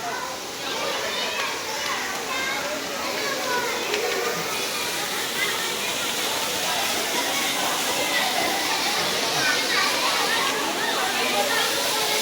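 Steady roaring water from a waterfall at Byculla Zoo in Mumbai fills the scene, continuous and fairly loud, while children's voices and other chatter mingle beneath it.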